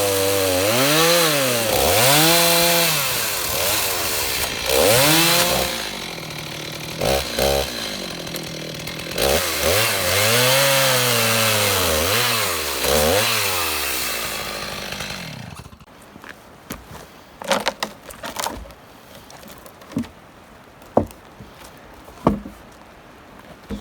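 Chainsaw ripping through a reclaimed cabin plank, a loud sustained whine rising and falling as the cut proceeds, then stopping partway through and giving way to scattered knocks and scraping of the board.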